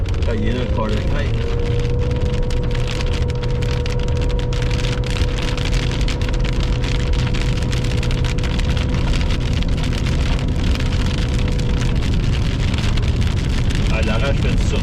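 Heavy, steady rain from a hailstorm core pours down continuously, a dense roar of drops on a hard surface with a faint engine hum underneath.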